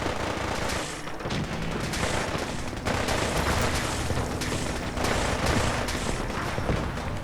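Sustained gunfire rattles throughout as allied fighters battle raiders in Fallout 4's Glowing Sea, with dense overlapping bursts of rifle and automatic fire at steady loudness and no pauses.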